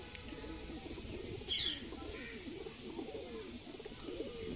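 A Sialkoti batera pigeon, an old bird, gives soft, low repeated coos, faint and close, with a brief higher chirp early on and no talking.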